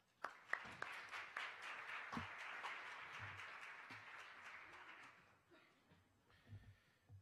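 Audience applause for Professor Ferrari at a conference on international sales contracts, starting with a few sharp individual claps, swelling into moderate clapping, then thinning out into scattered claps and faint room noise.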